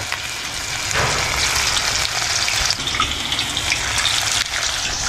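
Marinated bitter gourd slices frying in a pan, a steady dense sizzle that swells louder after the first second and crackles continuously, close and alone with no talk.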